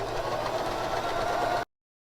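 A Baby Lock Zest sewing machine runs a steady straight stitch along a sock seam, a continuous close mechanical whir at even speed that cuts off abruptly near the end.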